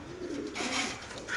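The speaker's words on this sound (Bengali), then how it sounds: "এখানে আছে একদম পাকিস্তানি কবুতর।" Pakistani pigeons coo in a soft, low, rolling warble, close by and fairly quiet, with a faint airy hiss behind them.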